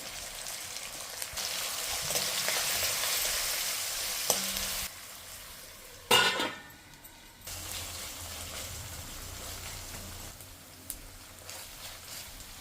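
Green chillies and onion frying with tomato pieces, ginger garlic paste, turmeric and salt in a pan, a soft continuous sizzle broken by a loud stir and scrape partway through.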